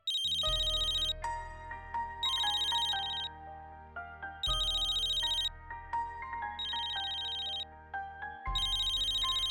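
A phone rings with a repeating electronic ringtone melody, loud and close, cycling through several bursts of bright tones with brief gaps, and no voices over it.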